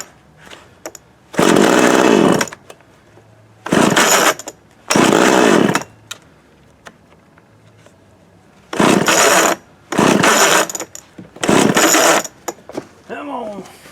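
A Montgomery Ward TMC 24052B chainsaw with a fuel problem is pull-started repeatedly: six loud raspy bursts of the recoil starter and engine turning over, each lasting about a second, separated by quieter pauses.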